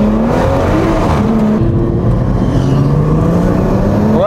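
A BMW B58 engine fitted with an NVM520R hybrid turbo pulls hard under acceleration, a loud continuous snarl with rising harmonics that climb steadily toward the end, close and with no voices over it.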